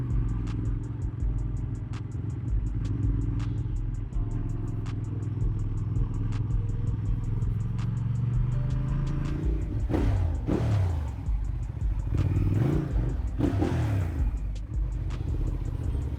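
Yamaha MT-09 motorcycle engine revving and pulling away in traffic, a steady mid-pitched rumble swelling into sharp rising throttle bursts near the end, loud and close with no talk.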